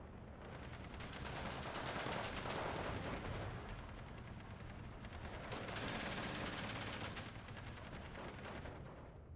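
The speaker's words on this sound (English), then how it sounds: "I'm shooting my machine gun with my off map." Machine gun fire rattles in the strategy video game Steel Division II, dense, rapid bursts of shots over a constant battlefield roar, swelling in two loud stretches.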